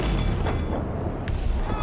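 Ship cannon fire aboard a sailing vessel in the video game Assassin's Creed IV: Black Flag, loud booming blasts layered over dense rumbling battle noise.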